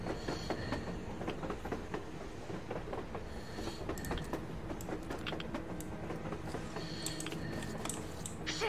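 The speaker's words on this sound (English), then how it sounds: "A train! A damn train on the surface!" In the Metro Exodus video game, a train passes on the surface with steady rumbling, rhythmic clickety-clack of wheels over rails and faint metallic squeals, continuous and moderately close.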